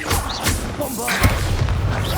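A Bombarda spell explodes in the video game Hogwarts Legacy: a heavy boom and thudding crash land mid-clip, layered with busy game effects and a voice.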